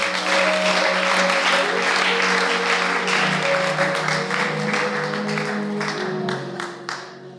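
A church congregation claps in praise, a full, even burst of applause that fills the room and gradually thins out near the end, with a sustained musical tone beneath it.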